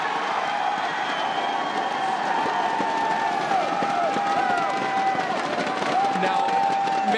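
Crowd noise from spectators at the WoW Arena World Championship semifinal at BlizzCon: a steady, dense wash of cheering and murmuring that holds at an even level throughout, with a voice carrying over it.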